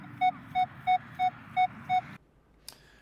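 Minelab Manticore metal detector sounding six short, evenly spaced beeps over a coin with the stabilizer filter on, against steady hiss, then cutting to near silence.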